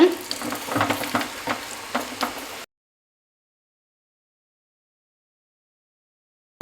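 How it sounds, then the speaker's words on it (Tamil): Cashews frying in a pan for Kashi halwa, white pumpkin halwa, giving a close crackling sizzle with stirring clicks for about two and a half seconds before it cuts to silence. "நல்லா வந்து வறுபட்டுருச்சு முந்திரி"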